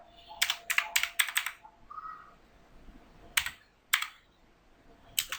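Computer keyboard typing while entering an Excel formula: short bursts of quick keystrokes near the start, then isolated clicks later, close and fairly quiet against a hushed room.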